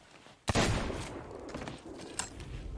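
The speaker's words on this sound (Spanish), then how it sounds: "Sigan disparando, hermano." Gunshots in the pirate game Sea of Thieves: one sharp close blast followed by a rumbling tail and a smaller second crack, set against faint background noise.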